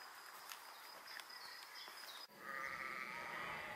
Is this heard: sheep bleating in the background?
yes